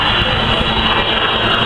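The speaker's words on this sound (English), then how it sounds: "She can go this slowly to keep position with these two little aircraft" An Avro Vulcan bomber flies slowly at an air show alongside two small aircraft. A steady, loud engine drone with a constant roar holds throughout and no one speaks.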